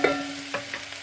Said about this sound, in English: that is sort of frying just to get a tiny bit of color, slightly caramelizing